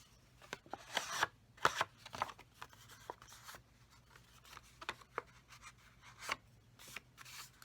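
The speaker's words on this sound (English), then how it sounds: "I'm going to straighten it out a little bit. Using my bone folder." A bone folder rubs and scrapes over a piece of card being straightened, giving quiet, irregular papery swipes and soft taps scattered across a near-silent background.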